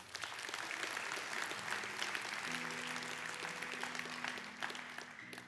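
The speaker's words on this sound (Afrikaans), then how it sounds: "Kom ons gee vir hulle lekker hande klap." A church congregation claps at a Sunday service, a soft, continuous patter of hands held at a distance, with a sustained organ-like tone entering partway through.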